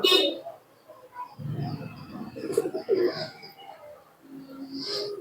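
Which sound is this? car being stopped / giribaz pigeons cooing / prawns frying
giribaz pigeons cooing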